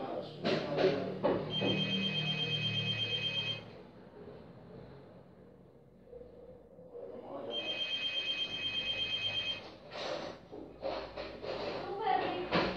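Telephone rings in two long bursts of bright electronic trilling at moderate volume, with a short quiet gap between them, amid household shuffling and bits of indistinct voices.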